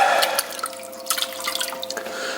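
Water is cleared from wet clay on a spinning pottery wheel, heard as close, wet sloshing and dripping with small splashes, plus a faint steady hum from the wheel underneath.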